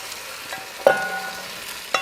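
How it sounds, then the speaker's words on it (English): Ground meat browning in a pot for gluten-free chili, a soft steady sizzle broken by two sharp clanks of a utensil stirring it, close by. "You want to hear a good sizzle on it."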